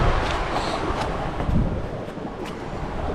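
Wind blowing outdoors at the ruins of the Suwannee Springs historic bath house and hotel, a steady broadband rush buffeting the microphone with slight gusts throughout, fairly loud and continuous.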